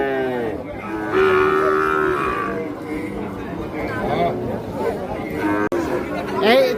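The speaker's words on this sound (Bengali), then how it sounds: "শাহিওয়াল জাতের সার বাছুর যেখানে কেনাবেচা হয় আমরা কিন্তু সে জায়গায় রয়েছি" Sahiwal bull calves at a busy village cattle market in Dinajpur, Bangladesh, with a clear drawn-out moo and other cattle calls heard over crowd chatter and someone talking.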